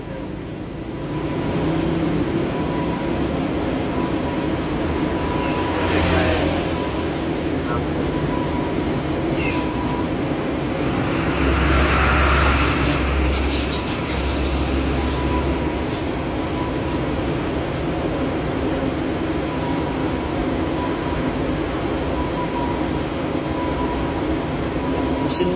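Steady low diesel drone of a VW Caravelle T5 2.5 TDI AXE engine running in a workshop, continuous and loud throughout, with men chatting faintly over it.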